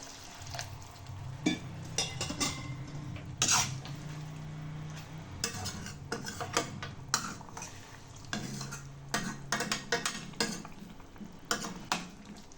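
A spoon scrapes and clinks against a pan while chicken liver gravy is stirred, with irregular bursts of scraping and tapping over a soft sizzle and watery bubbling, close and fairly loud throughout.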